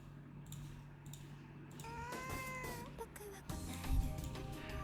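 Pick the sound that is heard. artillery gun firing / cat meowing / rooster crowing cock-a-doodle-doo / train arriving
cat meowing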